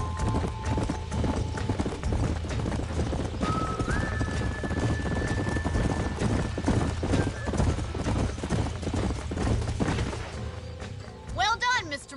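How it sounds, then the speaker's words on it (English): Horses clip-clop and gallop in the video game Red Dead Redemption, with steady hoofbeats throughout and a neigh near the end, under a music track and occasional talk. "These are fine horses."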